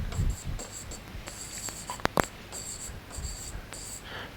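Marker or chalk writing on a classroom board, continuous scratchy strokes with short squeaks, heard close over a noisy background hiss.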